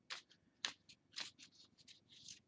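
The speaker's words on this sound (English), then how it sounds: "So I'll shuffle one time and then I'll split" Tarot cards being shuffled in several quick riffling bursts, crisp and close, with short pauses between, no voices.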